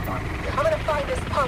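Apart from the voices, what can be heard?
helicopter in a video game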